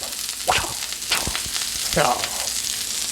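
Cheesesteak meat sizzling on a flat griddle while being pressed down, a steady close hiss broken by a few sharp scrapes and taps of a spatula.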